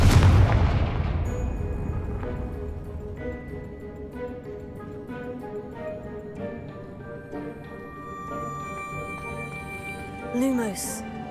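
Confringo spell explosion in Hogwarts Legacy, a loud booming blast at the start that decays into a long rumbling tail, followed by softer crackles and scattered ticking effects with a brief swoosh near the end.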